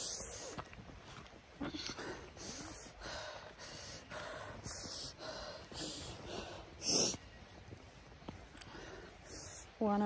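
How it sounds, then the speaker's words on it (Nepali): A person with a cold, runny nose sniffles repeatedly while climbing the trail to Taktsang monastery in Paro, Bhutan, giving close, short bursts of breathy snorts spread irregularly over the stretch. "जाडोले सिँगान आइसक्यो"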